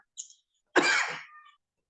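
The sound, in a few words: dry cough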